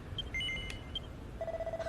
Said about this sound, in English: Maybe we don't like the sound of the bell you keep ringing.